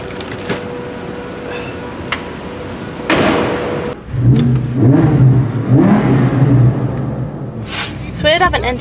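A car engine revving nearby at a Dubai Mall setting, rising into a loud throaty roar midway and holding, with people talking around it.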